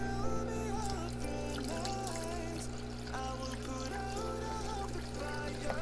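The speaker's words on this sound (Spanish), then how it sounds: "vamos a añadirle, porque ya toca, medio litro de vinagre" Half a litre of vinegar poured into a washing machine during a cleaning routine, a steady trickling liquid stream running close and continuous against a constant low appliance hum.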